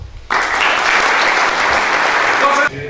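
Dense applause fills a university lecture hall as a business development specialist is welcomed to speak, a loud, even wash of clapping that starts abruptly and stops just as suddenly.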